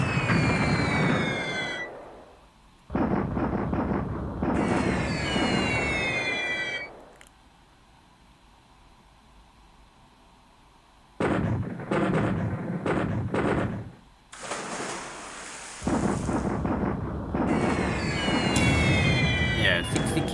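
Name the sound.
bombing explosions in the video game War in the Pacific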